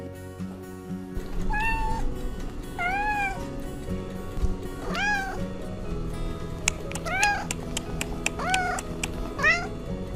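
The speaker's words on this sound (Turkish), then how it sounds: "galiba kokusuna bir kedi geldi" A cat meows repeatedly, about seven rising-falling cries spaced through the clip, over a steady background hum and low rumble.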